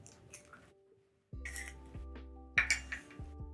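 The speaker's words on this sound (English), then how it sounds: "I'm going to crack 1 egg into my sugar and margarine." An egg cracked against a bowl and dropped onto sugar and margarine for chocolate chip cookies, heard as a few sharp close clinks and knocks with a soft wet plop, quiet and with no talk.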